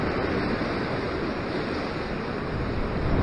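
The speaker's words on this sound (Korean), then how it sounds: "파도가 계속 이렇게 들이닥치니까" Ocean waves keep rushing onto a Sydney fishing shore in a continuous loud roar of surf, with steady wind noise and no talk.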